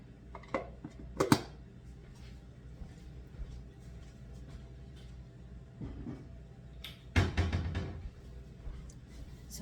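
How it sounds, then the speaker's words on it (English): Canning equipment is taken out and handled in a kitchen, with scattered light clinks and clatters of metal and glass, two louder bursts of knocking, and quiet stretches in between. "I have to get the rest of my canning equipment out."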